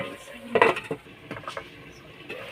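A metal lid clanks onto a cooking pot of chop suey vegetables, with a bright clatter followed by a few softer knocks and scrapes nearby.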